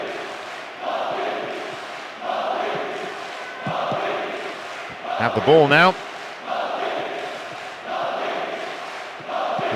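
Steady, incessant roar of a stadium crowd in the football video game PES 2009, swelling in waves with a brief chant-like surge, running beneath a commentator talking throughout.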